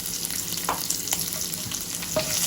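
Okra frying in a pan with asafoetida, turmeric, curry leaves and green chillies, giving a steady, close hissing sizzle with faint stirring scrapes and occasional crackles, fairly quiet, with no voices.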